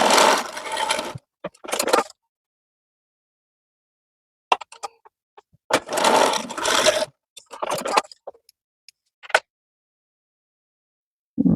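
A sewing machine joining quilt rows in short runs, with a few brief mechanical bursts separated by silent gaps.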